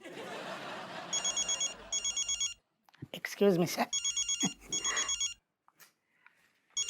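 A telephone rings in short repeated double bursts, fairly loud and close, with people speaking Hindi between and over the rings in a comedy scene.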